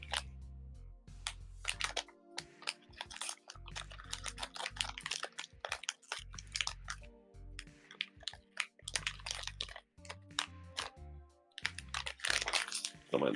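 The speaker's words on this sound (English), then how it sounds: "Don't mind the crinkling noises, it's just me opening a packet of fruit snacks" Plastic packet of fruit snacks being torn open and handled, giving a run of sharp crinkling and crackling bursts close to the microphone, uneven and on and off throughout.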